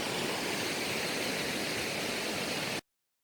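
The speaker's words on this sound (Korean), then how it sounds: "폭포에 폭포처럼 물 내려가는 거 시원하시죠?" Waterfall at an arboretum, water cascading steadily down in a loud, dense, continuous broadband rush that holds without pause, then cuts off abruptly near the end.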